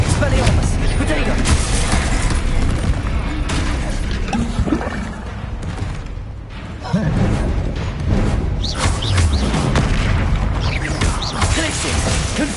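Spells firing in Hogwarts Legacy combat, Glacius, Confringo and Expelliarmus among them: a dense, continuous run of magical blasts, whooshes and impacts, loud and close, with a brief lull near the middle.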